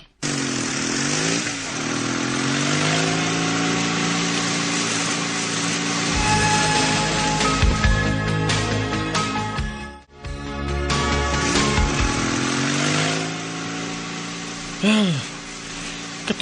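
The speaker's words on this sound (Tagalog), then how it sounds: "samtang nagsakay ko ng motor" A motorcycle engine drones continuously while riding along a road, loud and close with a steady rising and falling pitch, briefly dropping out midway before resuming.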